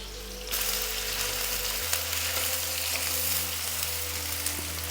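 Onion and garlic hiss in hot ghee for an Indian okra curry, a loud, dense sizzle that swells after the first half second and holds steady, with faint scrapes of stirring.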